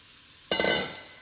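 Yellow squash drops into melted butter in a hot skillet, setting off a sudden loud sizzle that swells, then slowly settles into a steady frying hiss with no voices.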